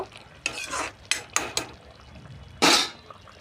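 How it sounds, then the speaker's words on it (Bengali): Rohu fish coated in fish masala is stirred in a pan, with a few scraping, shuffling strokes spaced out and one louder, longer scrape near the end, over a quiet background. "তারপর দিয়ে দেব ফিস মশলা দিয়ে একটু নাড়াচাড়া করব"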